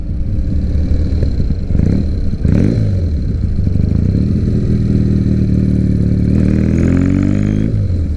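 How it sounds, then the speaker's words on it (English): A 2006 Triumph Bonneville motorcycle idles steadily up close, slightly low, a low rumbling putter with a brief blip of revving partway through. "It seems like it's a little idling just a little bit low"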